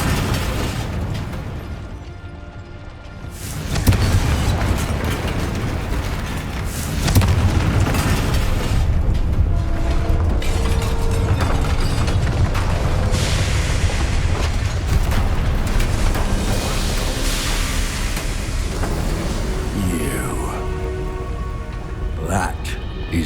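A Confringo spell detonates in the Hogwarts Legacy video game: loud booming blasts and crackling bursts over a dense, rumbling game soundscape, with voices talking throughout.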